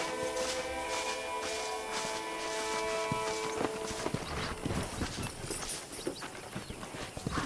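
Horse hooves clip-clop in Red Dead Redemption, a steady walking rhythm of close, distinct hoof falls over outdoor ambience and a fading musical tone.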